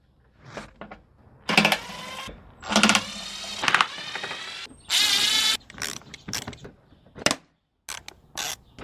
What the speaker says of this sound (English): Let's go ahead and unscrew the bumper pieces.